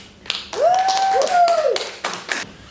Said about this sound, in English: Please welcome these two women with a great applause.